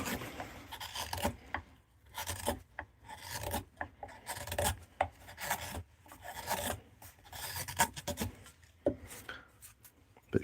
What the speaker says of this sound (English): But she making some shavings, lad.